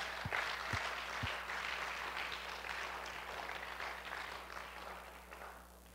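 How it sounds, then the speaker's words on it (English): A church congregation claps for graduates, a soft, fairly distant patter of many hands that fades gradually toward the end, with a low hum underneath. "let's give him another hand clap"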